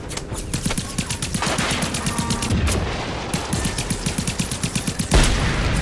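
Heavy video game gunfire with a tank nearby, rapid automatic bursts cracking in a dense, steady rhythm close up, with one louder blast near the end and no talking.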